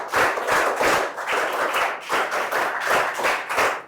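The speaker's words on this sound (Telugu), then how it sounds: "గట్టిగా చప్పట్లు కొట్టి అభినందించండి" A crowd of children and adults gives loud, steady applause for a first-ranked student at a school prize announcement, the close rapid clapping sustained for several seconds with no talk over it.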